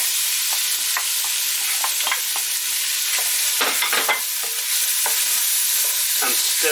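Onions frying in a pan with bacon sizzle loudly and continuously while being stirred, with scraping and clicking from the spoon breaking through the hiss.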